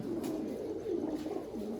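Pigeons coo in a loft, a low continuous rolling coo repeating throughout at close range, with no talk over it.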